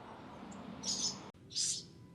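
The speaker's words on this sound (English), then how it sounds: "Stupid bird." Two short, high bird chirps ring out a moment apart against faint background hum, fairly close and clear.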